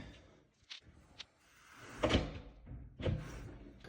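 Automatic drop-down seal on a solid interior door, heard as a few soft clicks followed by dull thunks as the door is worked and the seal drops to the floor, fairly quiet and close with no talk.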